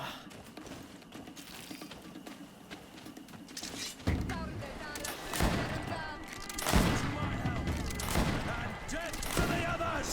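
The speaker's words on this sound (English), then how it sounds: "That's enough bullets for the day." Gunfire in the video game GreedFall, sharp bursts of shots arriving in irregular clusters over a busy game soundscape, getting louder partway through, with a voice talking underneath.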